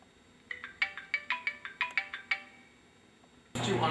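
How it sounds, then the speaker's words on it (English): A phone ringtone plays a quick run of about a dozen bright, plucked electronic notes in a steady rhythm, fairly near, then stops. A louder burst of noise cuts in at the end. "I think my phone's ringing from 12 stories up."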